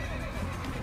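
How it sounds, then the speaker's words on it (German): Horse whinnying in the video game Assassin's Creed, a single close, fairly loud neigh over a dense game background, with no talk. "Das Pferd will mich nicht drauf lassen."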